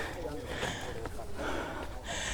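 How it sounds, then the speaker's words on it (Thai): Heavy, close panting from a worn-out woman after a steep rainy-season hike to the ancient rock pillars of Pha Cho, with ragged breaths and sniffs repeating steadily throughout. "อาจจะได้ยินเสียงหอบนิดนึงนะ เพราะเหนื่อยมาก"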